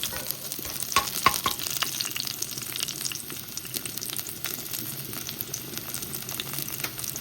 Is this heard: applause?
no